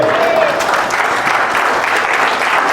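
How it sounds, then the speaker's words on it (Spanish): A church congregation applauds continuously, a steady loud wash of clapping filling the whole moment. "Le da un aplauso al Señor."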